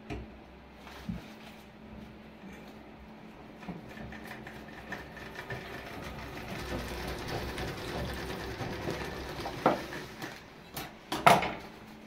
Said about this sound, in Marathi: बघा आता शिलाई मारून घेते अशी।